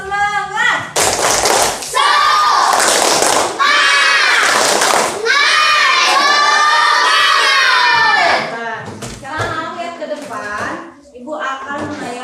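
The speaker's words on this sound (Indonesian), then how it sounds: "kita tepuk semangat satu kali lagi" Schoolchildren in a classroom perform a spirited clapping chant, shouting in loud unison in bursts punctuated by rhythmic claps and thumps, then trailing off into scattered voices and chatter.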